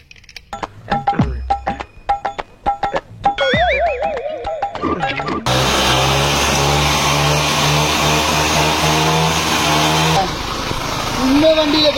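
An old, scrap-condition vintage Avanti motorbike engine runs after finally starting, producing a loud, buzzing, steady idle in the middle stretch, preceded by talking and other tonal sounds and followed by more rough running.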